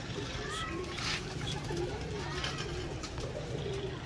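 Pigeons coo softly in a loft among the birds kept for pigeon racing, with faint low calls repeating under a constant background hiss and occasional light sounds.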